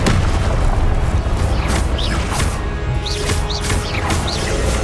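A Glacius ice spell is cast in Hogwarts Legacy during busy combat, with sharp magical bursts and booming impacts over a loud, continuous layer of battle noise.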